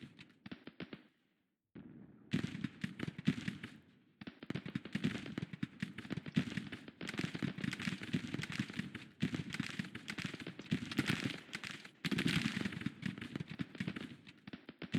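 Artillery bombardment in the Civil War strategy game Grand Tactician, a crackling, popping barrage of cannon and musket fire in rapid bursts with brief gaps, fairly faint and distant.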